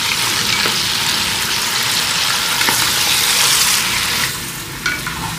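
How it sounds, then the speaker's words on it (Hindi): Mutton sizzles and fries steadily in ghee with cardamom and cumin, a loud continuous crackle with occasional stirring scrapes near the pan. "गोश्त को इलायची और जीरे के साथ अच्छी तरह घी में फ्राई कर लेंगे"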